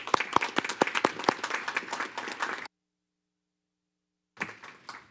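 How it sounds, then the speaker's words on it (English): Applause for a presentation team at a school board meeting: scattered sharp claps swell into a dense burst of clapping that stops abruptly, followed after a silent gap by a brief, softer round. "Let's give them a round of applause."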